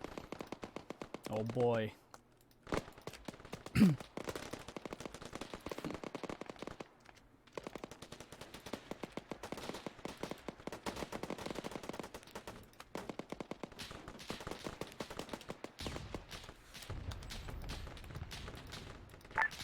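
Aircraft gun run in Arma 3 fire support, long stretches of rapid, dense automatic gunfire in sustained bursts, with a voice briefly reacting early on.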